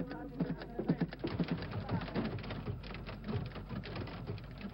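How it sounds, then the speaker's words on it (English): Typewriters clatter at a typing school in Eritrea in 1978, with dense, irregular keystrokes overlapping at moderate distance and faint voices mixed in. "a typing school, currently training 10 new typists a week."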